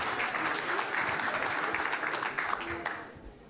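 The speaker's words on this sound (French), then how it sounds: "Vous pouvez l'applaudir?" An audience at an insurance trophies awards ceremony claps in warm, sustained applause that fades out near the end, with a voice briefly audible over the clapping.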